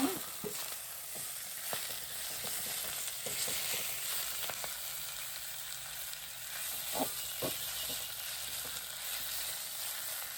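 Coriander and ivy gourd leaves sautéing in a pan give a steady soft sizzle with occasional light stirring scrapes, fairly quiet and close, no voices.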